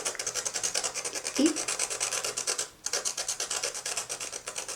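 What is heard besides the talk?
sanding a pastel stick tip with sandpaper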